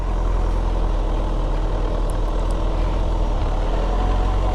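A motorcycle engine idles at a ride event's lanes, a steady low rumble close by that holds evenly throughout with no break and no talk over it.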